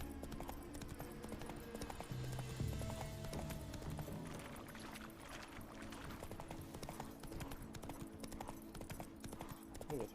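Horse hooves clip-clop at a steady gallop in The Witcher 3: Wild Hunt, a continuous fast, faint beat under game ambience, with a brief neigh partway through.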